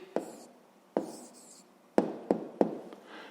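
Pen or pencil strokes on paper as an answer to a fifth-grade maths exercise is written by hand, a handful of close, sharp taps and scratchy strokes spaced irregularly, with no talking.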